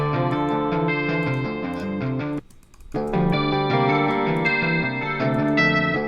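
A guitar track drenched in chorus effect plays a shimmering sequence of notes with a touch of distortion, loud and close, broken by a brief dip to near silence midway before resuming.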